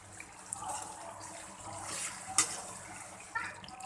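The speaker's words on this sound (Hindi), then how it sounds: "हल्का सा पानी का छींटा लगाएंगे क्योंकि हमने अभी इनको भूनना है।" A splash of water sprinkled onto potatoes frying in a pan, heard as a faint wet hiss and a sharp spatter, then a second smaller one, against a quiet kitchen background.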